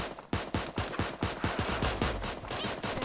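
Pistol shots fired in the video game Super Animal Royale, a steady run of about a dozen sharp, evenly spaced cracks over three seconds, loud and close with no talking.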